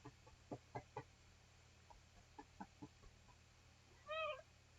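A house cat gives a single clear, wavering meow near the end, close and distinct over quiet background, preceded by a few soft clicking and tapping sounds, with no speech.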